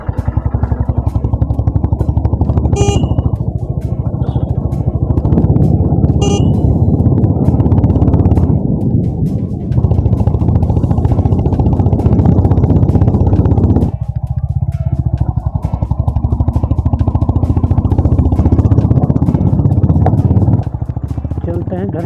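A Honda CB 350 RS motorcycle engine on an evening ride thrums steadily and loudly, its low pulsing exhaust note rising and falling with throttle changes, with brief clicks and rattles over the continuous drone.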